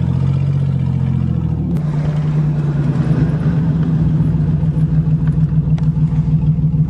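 A 1990 Buick Century with its 3.3-liter engine pulls steadily while driving, a loud, close, continuous drone after a brief shift in tone early on, with faint clatter riding on top and no talk.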